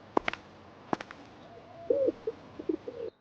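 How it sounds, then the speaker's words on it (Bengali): A few soft pigeon coos, low and rounded, spaced out after some brief clicks and taps, fairly quiet and close. "এত বড় কবুতর আমি জীবনে দেখি নাই"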